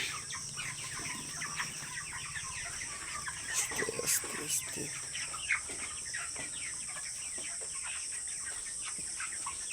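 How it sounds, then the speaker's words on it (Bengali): A chicken suffering from heat stress clucks in short soft bursts close by, with bright bird calls above a steady background hiss and a brief quiet human murmur. "তো এই মুরগিটা আমি এখন বাইরে বের করব।"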